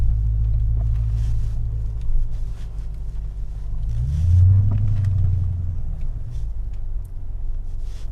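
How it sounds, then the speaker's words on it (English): Deep, loud exhaust rumble from a Toyota Land Cruiser in Bangladesh, a continuous low idle that swells briefly near the middle as if revved, with no talk over it. "just hear that exhaust"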